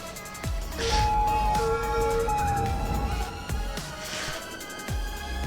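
Fire truck and ambulance sirens wail in the Cities: Skylines game, several overlapping tones sweeping and repeating over a low traffic drone, moderately loud with no talk.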